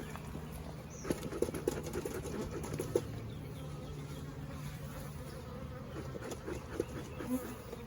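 Honeybees drone around an opened hive in a low, steady buzz, with scattered faint knocks and handling noises over the hum.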